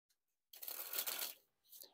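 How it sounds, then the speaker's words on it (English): Plastic Nintendo Kirby playing cards are sprung from hand to hand in a fast, fluttering burst of about a second, then a shorter softer ripple follows, close and clear in a quiet room. "But first, we'll spring the cards."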